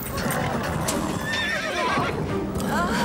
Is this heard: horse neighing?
yes